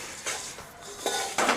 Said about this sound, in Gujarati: મમરા વઘારવામાં આવે છે અત્યારે